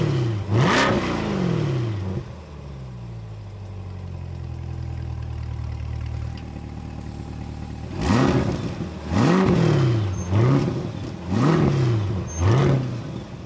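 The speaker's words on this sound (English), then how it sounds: "With the dual mode exhaust, it means that you can have the car in a quieter mode or a louder mode." A Chevrolet Corvette Z51 with a dual-mode exhaust revs its engine, with one sharp blip, a settling idle, then a quick series of four or five loud rising-and-falling revs close by, with no voices.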